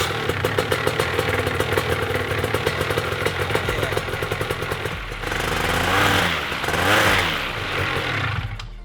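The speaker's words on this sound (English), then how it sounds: "I'm gonna go ahead and make sure she still cranks and fires up" A paramotor engine cranks with a rapid rhythmic clatter, then catches and runs loud and close with rising and falling revs.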